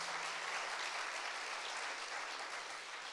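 A large audience at a Tamil pattimandram debate show claps steadily, a dense, even wash of applause lasting the whole stretch at a constant level.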